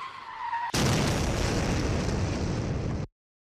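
A tricycle running a red light is struck by a truck and a van at a dark predawn intersection: a sudden loud crashing burst of impact noise that holds for over two seconds, then cuts off abruptly.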